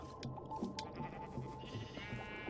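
Minecraft sheep bleat repeatedly inside a farm pen, several short nasal calls in a steady, moderately loud stream against a busy game background.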